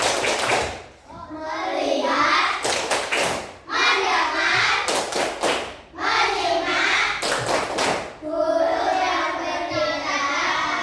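Schoolchildren in an Indonesian classroom perform a tepuk konsentrasi clapping chant: tight bursts of sharp hand claps in a repeating rhythm, alternating with the children's chanted voices, loud and close.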